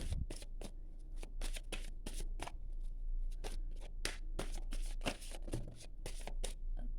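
Tarot cards being shuffled by hand, heard as a steady run of crisp riffling flicks and slaps, close and fairly loud, repeating in quick bursts with no talk.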